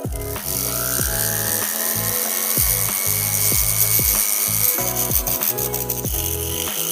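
Abrasive rubbing on a helix ring to smooth out scratches, a close, repeated rasping stroke in a steady back-and-forth rhythm with no talking.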